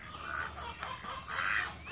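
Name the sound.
birds clucking in a backyard bird enclosure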